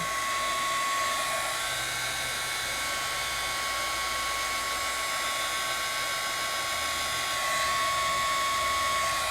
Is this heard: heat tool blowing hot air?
yes